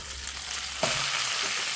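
Fried chicken pieces are dropped into a hot pan with chillies and stirred, giving a sudden loud sizzle that then holds steady as a continuous frying hiss.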